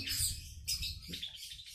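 Red-headed prenjak bird chirping in close, sharp high bursts, a few quick tweets repeating over a couple of seconds against a faint low background hum.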